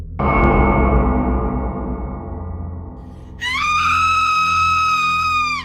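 A woman screams long and piercingly in a Thai horror story, the cry sliding downward, then a second higher, strained scream that is loud, close and unbroken.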